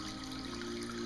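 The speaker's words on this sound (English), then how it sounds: "This is what we call a cascading waterfall effect." An oval, medium-sized indoor tabletop fountain with a live plant and a cascading waterfall design, its water trickling in a soft continuous flow, close and faint, with no voices.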